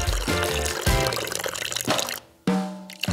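Liquid pours in several gushing bursts into cups filled to the brim, each splashy rush stopping abruptly before the next begins.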